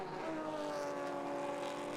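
A race car in a Pirelli World Challenge race at Mid-Ohio, rotating through the carousel, gives a steady, loud engine drone with sustained tonal harmonics throughout and no speech.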